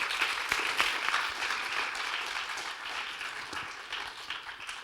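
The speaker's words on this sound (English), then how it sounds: "So round of applause, please." An audience at an entrepreneurs' event applauding, a dense sustained wash of clapping from many hands in a room, steady for several seconds and slowly easing off.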